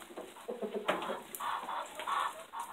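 Backyard hens pecking at feed, giving soft, irregular clucks and short murmuring calls, close by and moderately quiet, with a few louder squawky notes breaking in.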